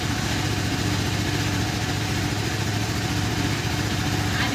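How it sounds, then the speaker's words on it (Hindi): A KTM RC 390 motorcycle engine idles steadily and close by, a continuous low rumble with an even pulse that holds throughout without revving. "इसकी आवाज़ भी बहुत बढ़िया गाड़ी की"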